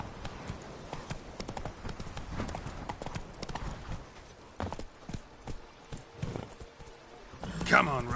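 Roach, the horse from The Witcher 3, clip-clops along with a steady, even rhythm of hoofbeats, moderately close, continuing throughout.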